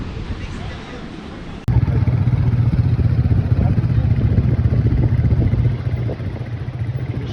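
Sheriffs' quad bikes drive along Siesta Key beach in a steady loud engine drone that starts abruptly and runs on, with wind noise, beach crowd babble and a voice talking over it.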